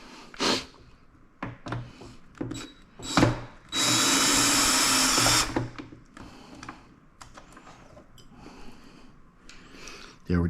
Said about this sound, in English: we're just taking out screws